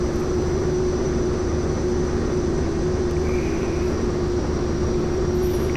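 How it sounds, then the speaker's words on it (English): Pilatus PC-12 turboprop taxiing in X-Plane 11, a steady droning engine hum with a constant whine, unbroken and close throughout. "We are taxiing on Bravo, guys."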